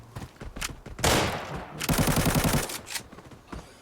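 Automatic gunfire in the shooter game Arena Breakout, heard as two loud, rapid bursts of shots with rhythmic clatter, separated by a short pause and followed by a few scattered shots.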